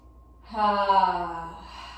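A single deep breath taken during a yoga cool-down, a soft, close inhale swelling into a fuller airy exhale lasting over a second, alone without talk.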